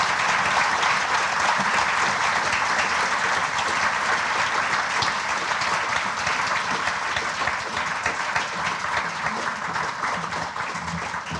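Sustained, dense applause from a concert audience greeting a pianist arriving for a solo piano recital at the Crocker Art Museum, steady and full for the whole stretch, loud and close, with no talk over it.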